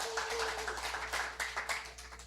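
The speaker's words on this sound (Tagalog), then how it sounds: "Isang malakas na palakpak para kay Lord John." An audience at a church gathering claps in a quick, scattered burst at moderate distance, the slaps irregular and fairly soft, with a steady low hum and a faint sustained tone underneath.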